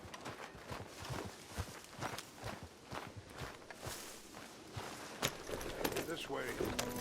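Horse hooves clip-clop in Red Dead Redemption 2, with steady footfalls at a middle distance. Game voices and other sounds from the scene run over them.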